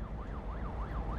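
Police car siren in Cities Skylines 2, a fast wailing tone rising and falling in quick regular sweeps, heard at moderate distance over a low city rumble, with no talk.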